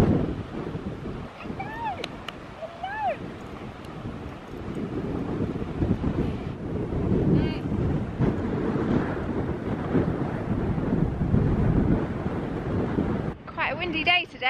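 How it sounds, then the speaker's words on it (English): Strong wind buffets a microphone on a coastal cliff walk at Predannack Head, a steady roaring rush with gusting swells throughout, with brief high bird-like calls and a moment of rustling near the end. "Quite a windy day today."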